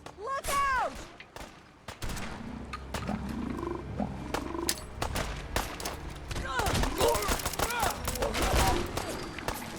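Rapid gunfire bursts and explosive blasts in Fallout 4 mix with snarling creature roars and shouted voices, loud and chaotic, with sharp cracks clustered early and again toward the end.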